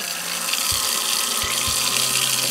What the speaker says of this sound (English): We then turn on the water.